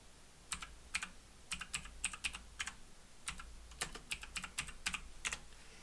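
Keys on a computer keyboard clack in quick irregular bursts as a search is typed, crisp and close with short pauses between clusters of keystrokes.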